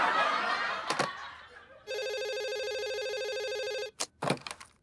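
A telephone rings in a long steady electronic tone of about two seconds, with bursts of loud voices before and after it.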